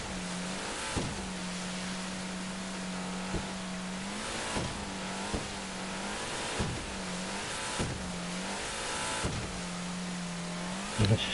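A car engine in GTA V Online revs and drones steadily as the vehicle drives, the pitch rising and dropping at regular intervals as gears change, with a few small knocks near the end.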